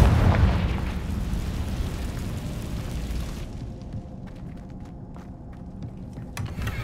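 A fiery Confringo spell blast in the Hogwarts Legacy video game erupts with a loud booming explosion at the start, its rumble fading and thinning over several seconds into a quieter background with faint small crackles.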